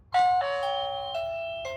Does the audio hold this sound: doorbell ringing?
yes